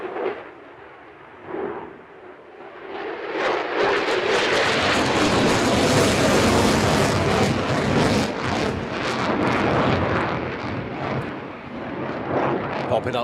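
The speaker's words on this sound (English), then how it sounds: "coming down to fly past left to right at around about 350 knots" A display jet at the Farnborough International Airshow flies past at around 350 knots, a loud roar that swells quickly, holds as a broad rushing blast, then eases away, with a commentator talking over it.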